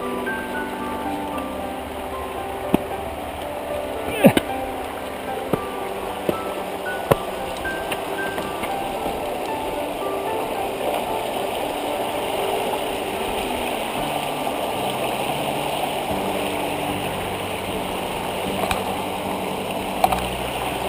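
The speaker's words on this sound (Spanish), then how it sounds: "Y ahora un arroyo." A stream flows steadily along a bike route, a constant gurgling wash of water with scattered clicks and knocks from handling a bicycle, close by and without talk.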